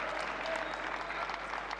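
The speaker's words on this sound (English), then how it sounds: "Applauded by the coach" Crowd applause at a table tennis match at the 2013 Russian Open, a steady dense patter of many hands held at an even level across the whole stretch, somewhat distant with a low hum beneath.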